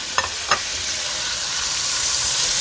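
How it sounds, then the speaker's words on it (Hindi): Steady, bright sizzling of ginger garlic paste frying in hot oil for whole masoor dal, close up, with two quick clatters near the start and no talking. "अब इस लम्हे पर आकर हम अदरक लहसुन का पेस्ट डालेंगे, इसका कच्चापन खत्म करेंगे"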